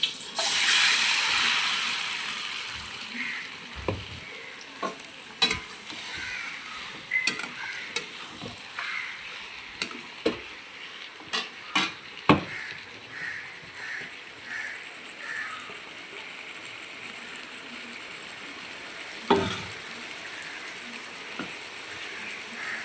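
Pieces of mustard-marinated chicken fry in hot oil in a wok. A loud hiss opens, then the sizzle settles under repeated sharp scraping clicks as the chicken is stirred.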